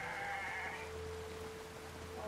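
A goat in Ghost Recon Breakpoint gives one faint, short bleat over a quiet game ambience, heard at a distance with no other clear sound.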